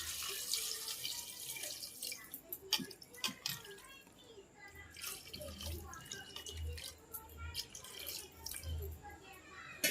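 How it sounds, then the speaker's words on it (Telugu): Water poured into a pressure cooker holding country chicken curry with tomato and coriander, a running splashing stream with a few sharper clinks, moderately close, under quiet background noise. "ఇప్పుడు దీనికి తగినన్ని వాటర్ పోసేసుకోవాలి."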